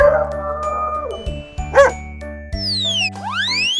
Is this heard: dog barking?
yes